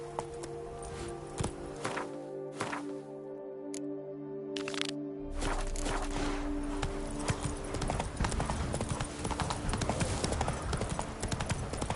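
Hooves of Roach, the horse in The Witcher 3: Wild Hunt, clopping in a steady trotting rhythm over a low ambient hum, growing denser and louder partway through.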